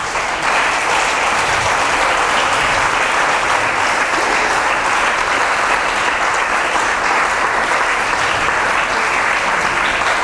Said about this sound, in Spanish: un aplauso a nuestro Padre.